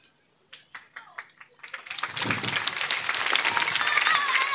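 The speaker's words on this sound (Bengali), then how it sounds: "সকলে একটু করতালি দিবে" An audience at a felicitation during a public meeting starts with a few scattered claps, then swells into sustained, dense applause that keeps building to the end.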